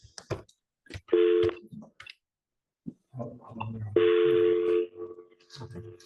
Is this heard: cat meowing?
no